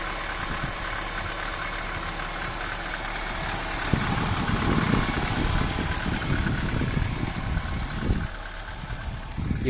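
A Mercedes-Benz 190E's M102 engine, converted to full EFI, idles with a low, steady hum, then a somewhat rougher, louder running sound takes over partway through.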